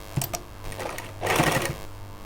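Sewing machine stitching piping onto a trouser pocket, a close rapid mechanical whir in short bursts that swells to a louder run near the end, with no speech over it.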